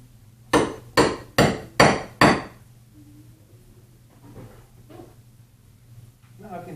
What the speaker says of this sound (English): Now I can just use the hammer to pull them out from the other side.